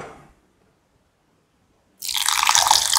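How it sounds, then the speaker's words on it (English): After a short sound and a silent pause, 50 ml of water pours in suddenly onto semolina and yogurt for dosa batter, a loud, close, steady rushing splash that continues to the end. "Add 50 ml of water to this"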